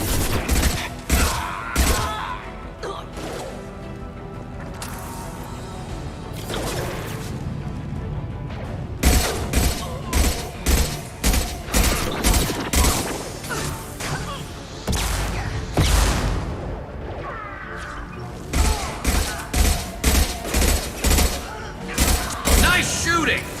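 Gunfire in Mass Effect 2 Legendary Edition, sharp repeated shots in bursts and single cracks over a dense game soundtrack, with voices talking throughout.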